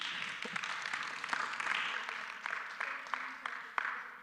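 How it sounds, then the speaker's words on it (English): A modest round of applause from a small gathering in a synagogue hall, fairly faint and uneven, with individual sharp claps standing out from a thin, scattered patter. "But let's give a round of applause to Toby Brief."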